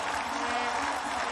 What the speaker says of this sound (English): So listen to the crowd getting behind the Germans.